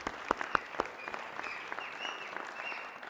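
Scattered applause at the Phalaphala FM Royal Heritage Festival 2023 media launch: a few sharp claps stand out early, then settle into a light, steady patter from a small crowd with no talking.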